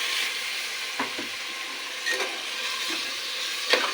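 Tomatoes fry in a pan for tomato rice, giving a constant close sizzle broken by a few soft scraping stirs of a spoon against the pan.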